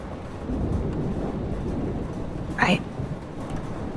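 Thunderstorm in Life Is Strange, with steady rain and wind noise and a brief crackling rumble of thunder, while voices speak over the storm.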